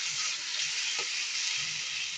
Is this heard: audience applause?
no